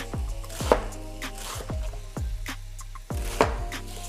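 A knife chops the final bit of an ingredient for Southern fried cabbage, with about eight crisp, evenly spaced strikes on a cutting board, close up and without any talk.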